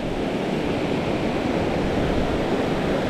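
Water rushing hard at a fishing spot for white bass and crappie, a loud, steady, broadband roar with no breaks or voices.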